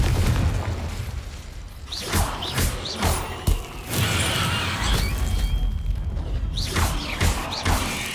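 Fiery blasts and thuds from spell-casting in a magic-themed video game, with several booming bursts and crashes spread across a dense, noisy backdrop.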